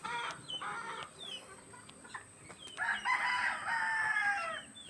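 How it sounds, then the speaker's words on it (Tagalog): Chickens cluck in bursts, then a rooster crows loudly and at length near the end, with other farmyard birds faintly in the background. "Damo may manok."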